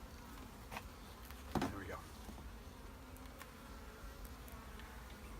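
Honeybees buzzing around an opened beehive during a hive inspection, a steady close hum with individual bees darting past, under a short spoken remark and light handling noises.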